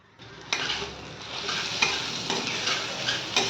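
Food slowly frying in a pan gives a soft, steady sizzle with occasional light stirring scrapes, close up and with no voices.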